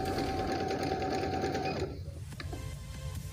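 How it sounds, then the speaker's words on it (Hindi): A Juki Baby Lock QC 8500/9500 sewing machine stitches thick fabric with a loud, fast, steady motor whir that stops abruptly partway through, followed by a few faint clicks and handling noises. "इसकी भी मैं आपको सिलाई दिखा देता हूँ कि ये कैसी बनी है।"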